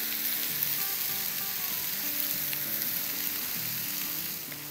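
Thin burger patties sizzle and fry steadily in a hot, oil-drizzled pan, a loud continuous crackle with no voices.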